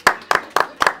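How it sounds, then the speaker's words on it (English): A small church congregation at a holy convocation gathering gives a few brisk claps, four sharp double-slapped bursts in steady rhythm, close and fairly loud with quiet gaps between. "Let's give him a round of applause"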